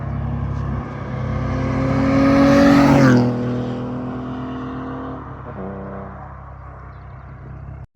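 Exhaust note of a BMW M235i with the N55 engine, stock cats and resonators kept but the back box removed: a steady loud drone that swells as the engine revs up, peaks, then drops back to a lower hum, with no talking.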